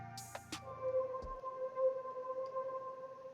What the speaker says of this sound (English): so we got this pad here. Sounds like this.